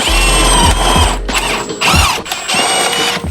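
A power impact gun whirs in short bursts while backing out car bolts during a daytime running light install, loud and close, with brief pauses between pulls.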